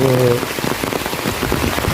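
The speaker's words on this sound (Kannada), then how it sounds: "ಮಳೆ ಬರ್ತಾ ಉಂಟು" Rain falls in the Western Ghats on the road from Samse to Bangarupalke, a loud, dense patter close by, with a brief voice at the start.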